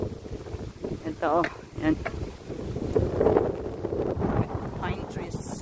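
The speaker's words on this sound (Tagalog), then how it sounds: "Lakas ang hangin." Strong wind gusts across a Discovery Bay pier in Hong Kong, a steady rushing roar buffeting the microphone throughout, with someone talking over it.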